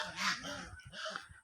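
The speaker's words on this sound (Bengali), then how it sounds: "এখানে রাজহাঁস আছে, এই জন্য রাজহাঁসের ডাক শুনতে পাচ্ছেন।" Domestic geese on a farm honk in a couple of loud, nasal calls close by, with a short pause between bursts and soft background noise.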